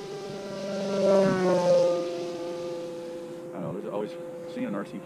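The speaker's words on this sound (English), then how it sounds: "Plane flying around just put a smile on my face." A battery-powered model Corsair propeller plane drones overhead with a steady buzzing whine that swells and fades as it passes, with people talking over it toward the end.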